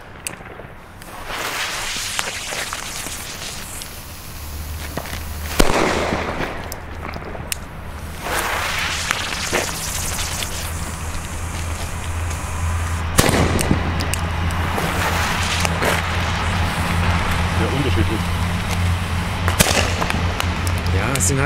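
Cubic firecrackers from a Lidl six-pack set off on a street at New Year's Eve, many of them fizzling duds: a run of dull, muffled pops and bangs with crackling in between, fairly near, with people talking throughout.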